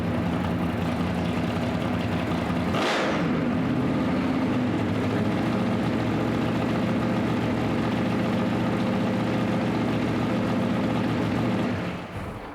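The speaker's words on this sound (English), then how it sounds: "It's idling a lot smoother." A drag race car engine idles steadily and loudly close by, a rough low rumble with a brief burst of revving near the start, then holding even until it cuts out near the end.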